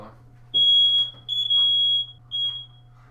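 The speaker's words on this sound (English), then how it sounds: "That's my fire alarm." Smoke alarm sounding indoors: loud, piercing electronic tones in three long bursts with short gaps between them, heard alone with no talking.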